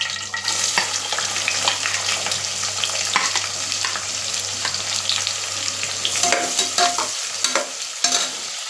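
Onions are added to spluttering hot oil and fry with a loud, continuous sizzle. A spoon stirs and scrapes repeatedly in the pan. A low steady hum runs underneath until near the end. There is no talk.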